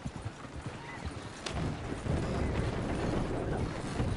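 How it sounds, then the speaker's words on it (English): Horses clop along in Red Dead Redemption 2 with a rhythm of hoof beats that gives way to a denser rumbling tread in the game's outdoor ambience. It is fairly faint, with a brief louder thump midway. "Damn horses."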